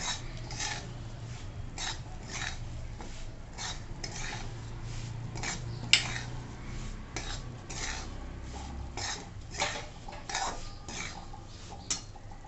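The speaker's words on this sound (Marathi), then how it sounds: "थोडं थोडं तूप टाकत आपण छान खमंग भाजून घ्यायचा रवा" Semolina roasting in ghee in a pan for sheera, with continuous scraping and stirring and repeated light metallic taps of a spoon against the pan.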